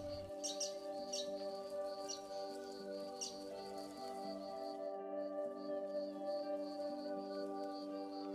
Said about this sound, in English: More finches, masked finch with a yellow beak,